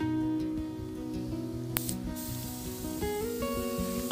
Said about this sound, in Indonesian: Oke, kita semprot lagi aktivator.